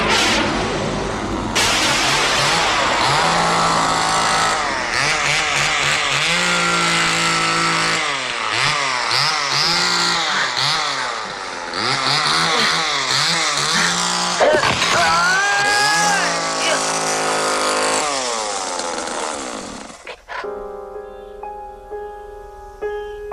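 A chainsaw in a horror film scene roars loudly and continuously, its engine pitch revving up and down repeatedly before cutting out into a quieter tonal background.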